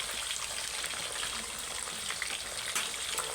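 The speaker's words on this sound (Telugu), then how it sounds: "ఫిష్ అయితే ఇలాగ మరుగుతుంది కదా" Fish pulusu, a fish curry, bubbling in a pot, giving a steady, dense sizzling and bubbling hiss close up with no speech.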